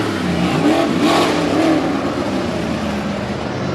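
A full-body Ford race truck engine revs loudly and close at a dirt-track race, its harmonic roar rising and falling steadily throughout with no talk over it.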